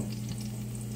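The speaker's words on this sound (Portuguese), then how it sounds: "Aqui tem frango com cenoura, que eu vou colocar pra cozinhar agora." Chicken with carrot frying in a pan, a steady quiet sizzle with a low hum underneath, no talk.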